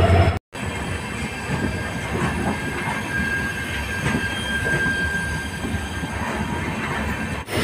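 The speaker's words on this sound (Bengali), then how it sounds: "এখন ট্রেনটা দেওয়ানহাটে ঢুকলো" A passenger train with LHB coaches rolls into Dewanhat station, heard from onboard as a continuous rumble of wheels with faint squeal and clatter, steady and fairly loud after a brief dropout at the start.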